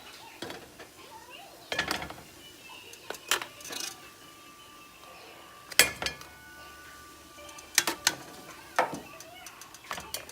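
Steamed king crab legs lifted out of a metal pot make sharp, intermittent clinks and clatters of shell against metal, spaced irregularly over a quiet background.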